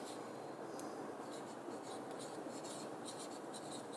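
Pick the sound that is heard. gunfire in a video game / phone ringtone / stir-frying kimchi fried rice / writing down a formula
writing down a formula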